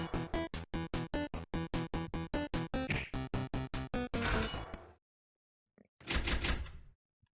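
A rapid train of sharp mechanical clicks leads into a grinding mechanism and stops, then after a silence comes a loud heavy thud as a door in the Changed video game opens, with no talk.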